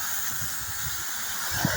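A high, continuous hiss of pressurized water spraying while a farm spreader is washed on a sugarcane farm, with faint low thumps underneath and a brief squeal near the end.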